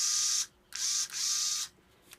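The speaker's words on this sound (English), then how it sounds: "It is an electric screwdriver." Electric screwdriver with high and low speeds and forward and reverse, spun in three short bursts of buzzing whine separated by brief pauses, close and fairly quiet, with no talking.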